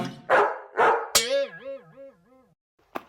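Cartoon dog barking: two loud barks, then a sharp yelp trailing into a wavering whine, with a short bark-like burst after a brief pause; nothing else is heard.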